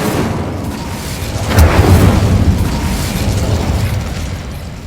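Incendio fire spell blasting in Hogwarts Legacy, a loud whooshing burst that swells near the middle and sustains as a roaring rumble for a few seconds, with no voices.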